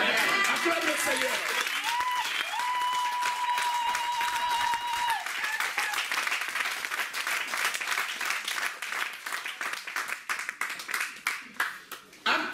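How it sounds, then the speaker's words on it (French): A church congregation claps and cheers in praise, a dense, sustained wash of many hands applauding; a voice carries over the start before the clapping thins into scattered claps toward the end. "Acclame le Seigneur."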